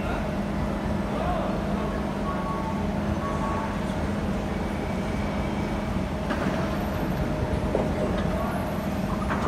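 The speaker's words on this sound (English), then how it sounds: "the train's departing now" A C151 MRT train departs Paya Lebar station in Singapore, giving a steady, loud rumble of motors and rolling wheels with a constant hum. Faint clanks and brief beeps break through it now and then.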